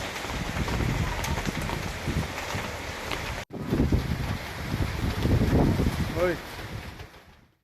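Light early-morning drizzle falls over Chennai streets, heard as a continuous rushing hiss mixed with gusty wind buffeting the microphone, with a brief dropout midway and a fade at the end.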